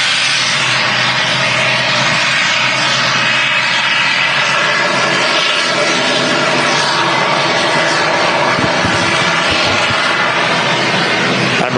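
An Emirates Airbus A380 arrives from Dubai at Manchester Airport, its engines giving a loud, steady, broad roar with a faint tonal whine that holds for the whole stretch, without any talk over it.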